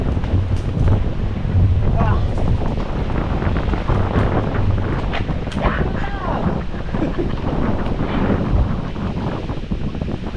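Strong outdoor wind buffeting the microphone in a continuous loud roar, with gusty swells and voices talking faintly in between.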